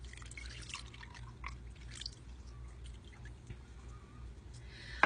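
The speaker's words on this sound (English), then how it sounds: "any little particles that are left in the milk that haven't been filtered out already will get filtered out here before I pasteurize" Goat milk trickling and dripping through a filter before pasteurizing, a soft, steady run of close, quiet drips and small pours over a low background hum, with no talking.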